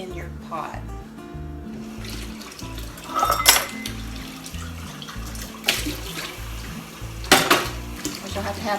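A cup of water poured into an Instant Pot holding a pepperoni pizza meatloaf on a rack, splashing in short bursts amid clinking pot and utensil sounds, with someone talking throughout.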